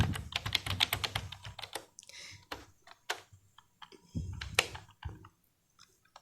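Computer keyboard typing C code, quick bursts of crisp key clicks in uneven runs with short pauses, close and fairly quiet, no voice over it.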